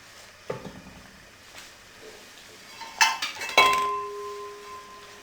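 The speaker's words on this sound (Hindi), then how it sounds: "अब इसे हम अच्छे से मिक्स कर देंगे।" A metal spoon stirs mixed dal in a cooking pot after the tempering is added, giving a few sharp clanks and scrapes against the pot, with one ringing metallic hit near the end. Close and fairly loud, with no talking.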